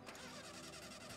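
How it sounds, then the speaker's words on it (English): A vehicle engine starts in the Skylanders Superchargers video game, a dense, steady mechanical roar with rapid pulsing that holds at an even level throughout. "We started the engine."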